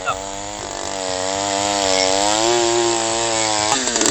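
An earth auger post hole digger fitted with a 4-inch bit runs steadily and loudly close by, its small engine droning with a slowly rising pitch as it bores into the ground.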